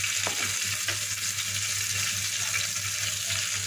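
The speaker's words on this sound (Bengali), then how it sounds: "আমি চামচ দিয়ে মাখিয়ে নিলাম।" Bitter gourd and rohu fish heads sizzle in a pan while a spoon stirs them, a steady close frying hiss with a few soft scraping strokes near the start, no talking.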